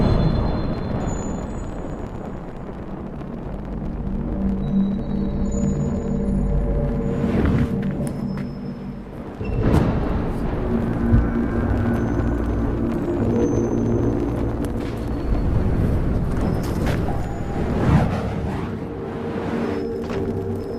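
Fire hoops set the targets alight with a deep, sustained roaring rumble of flames that rises in heavy whooshing surges, loud and continuous throughout with no talk.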